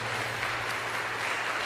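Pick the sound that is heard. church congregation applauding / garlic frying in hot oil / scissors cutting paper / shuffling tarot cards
church congregation applauding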